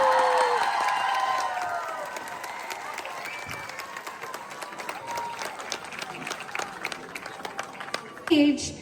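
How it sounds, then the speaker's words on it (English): A crowd at a French community night event claps and cheers for the chairman. Applause is loud at first, then fades into scattered clapping, with voices speaking over it. "please, everybody, big round of applause once again for Chairman Hitesh Chaudhary and MC"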